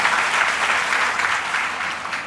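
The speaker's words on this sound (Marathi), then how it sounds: "मी देवेंद्रजी गोडबोलेसाठी आपल्याला सगळ्यांनी टाळ्या वाजून स्वागत करू" A room full of people at a workers' rally claps steadily, a dense, even round of applause that carries through the whole moment.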